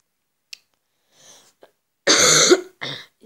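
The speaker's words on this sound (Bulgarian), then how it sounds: "Ама кашлям още." A person gives a small cough, then after a pause two harsh, close coughs, the first strong and rough and the second shorter, with faint breaths between.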